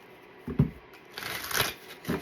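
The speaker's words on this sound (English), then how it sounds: "keep shuffling until you see it" Tarot cards shuffled by hand, a few brief papery riffles and slides in short bursts, close and moderately loud, with no talk.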